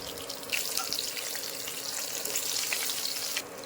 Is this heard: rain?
no